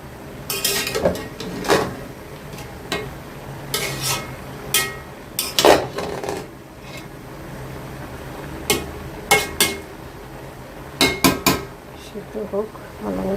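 A large pot of vegetable curry, enough for three boxed delivery orders, stirred with a metal spoon: irregular clanks and scrapes against the pot, some louder knocks, with quieter stirring in between and faint background noise.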